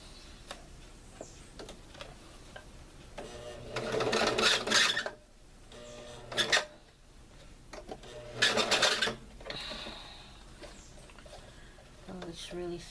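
A sewing machine running roughly because of a bobbin problem, with two bursts of loud whirring stitching between quieter ticking and clicking, close by, and a person talking around it.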